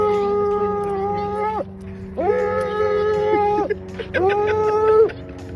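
A dog howls in three long, drawn-out wails separated by short pauses, loud and close, with a low steady hum underneath.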